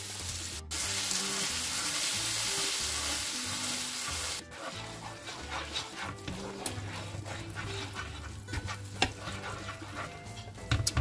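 Garlic in a hot frying pan deglazed with crème fraîche, a bright loud sizzle that softens after a few seconds into quieter bubbling with occasional utensil clinks.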